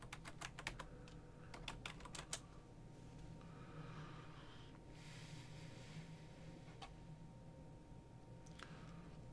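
Quick bursts of computer keyboard typing, clustered keystrokes at the start and a few scattered clicks later, sit over a steady hum of computer noise while a web address is entered on a Windows 8 machine.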